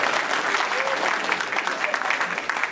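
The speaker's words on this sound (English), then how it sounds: "give them a round of applause, that's very nice" Audience applause at a stand-up comedy show after an engaged couple is introduced, a loud, dense burst of many hands clapping with a little crowd murmur, steady then easing slightly.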